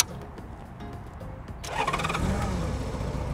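A Honda Goldwing 1500 SE motorcycle starting up: quiet background hum and clicks, then the engine cranks and catches at about halfway, settling into a smooth, fairly quiet idle.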